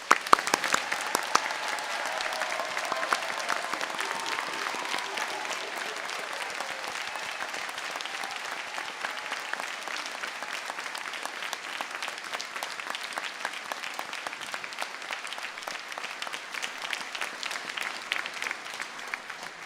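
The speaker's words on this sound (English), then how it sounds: "could I ask you all to join me in a round of applause" Audience applause at a winter graduation ceremony for a university school of arts, media and creative technology: sustained dense clapping from a large crowd, steady throughout, with a slightly louder start.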